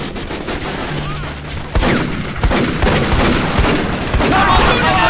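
Gunfire during a firefight in Raven Squad: rapid, overlapping shots and bursts over constant loud battle noise, with a heavier surge partway through.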